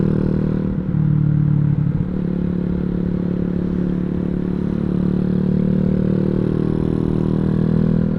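A Boom Vader 125 motorcycle engine runs loud and steady close by, a continuous throaty drone with slight revving near the start and no talking.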